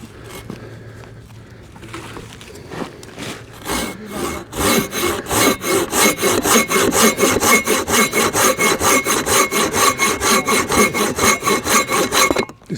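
Silky BigBoy 2000 Professional pruning saw with extra large teeth, 5.5 per inch, cutting through wood at an awkward angle: a few tentative strokes, then a fast, loud, steady rhythm of rasping push-pull strokes up close.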